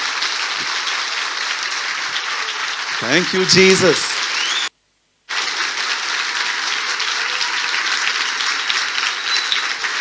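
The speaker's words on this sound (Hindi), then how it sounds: "आइए हम प्रभु के लिए एक जोरदार ताली बजाएं।" Church congregation clapping loudly for the Lord during a Hindi-language worship service, a dense steady wash of applause running throughout with a brief dropout midway and a voice speaking over it.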